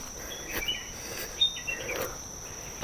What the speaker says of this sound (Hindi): ये देखिएगा, इस चिड़िया का आवाज़ वगैरह आ रहा है।